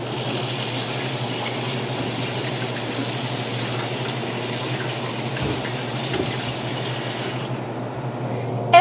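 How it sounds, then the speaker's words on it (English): Running tap water splashes steadily over a Halloween pumpkin being washed at a sink, a loud continuous stream that stops abruptly near the end. "Let's start by washing our pumpkin."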